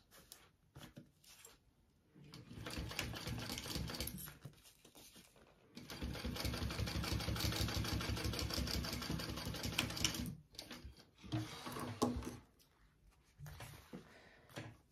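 A sewing machine top stitching a crossbody bag, running in two bursts of rapid, rattling stitching separated by brief pauses, with soft handling noises between runs.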